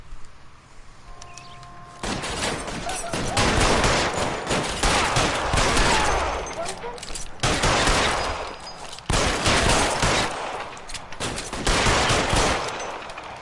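Bursts of gunfire from an L.A. Noire shootout against security men, with a quiet start, then dense, loud volleys broken by brief pauses and sharp single shots throughout.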